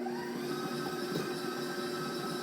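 A KitchenAid Professional 5 Plus stand mixer beats bananas on speed 6 for muffin batter, a steady whirring motor drone with a faint rattle, quiet and continuous with no voices.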